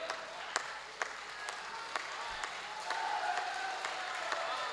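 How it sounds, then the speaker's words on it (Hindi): An audience applauds at a Hindi devotional poetry recital about Lord Ram, giving steady, moderately loud clapping with a few sharper claps standing out above the crowd. "आपकी तालियां अभी भी कमजोर हैं।"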